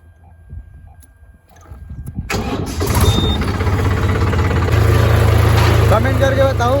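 A tractor's diesel engine cranks with a rhythmic throbbing, then catches and settles into a loud, steady rumbling idle.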